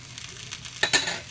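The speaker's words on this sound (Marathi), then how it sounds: "आपण आता तेल घालून घ्यायचं आहे धपाट्यावर या सगळीकडनं भाजण्यासाठी" Oil sizzling around a mixed-flour thalipeeth roasting in a pan, a soft background crackle that swells into a louder hiss with a couple of light clinks near the end.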